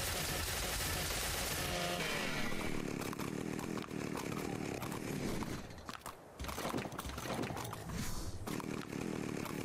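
A chainsaw in the video game ARK Survival Evolved on the Genesis 2 map buzzes loudly and continuously through the whole stretch, with rough, rattling cutting noise that briefly eases midway.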